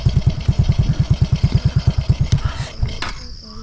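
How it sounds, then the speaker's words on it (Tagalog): A motorcycle engine close by chugs in a quick, even rhythm, then sputters and cuts out near the end, leaving a few faint clunks after it stalls. "Namatay na yung motor natin."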